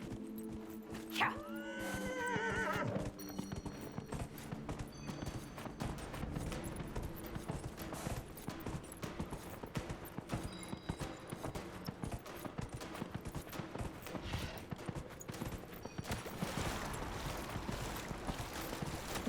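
A horse in Dragon Age Inquisition lets out a sharp neigh near the start, then gallops in a steady, rapid clip-clop of hooves that continues close and loud throughout.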